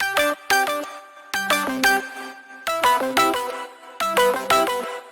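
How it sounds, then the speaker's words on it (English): The Discord ringtone used as the lead in an electronic remix drop: a bright, synthetic melody repeating in short, punchy phrases over a steady electronic beat, looping with little variation. "the main thing in the drop is obviously the lead. It's the ringtone."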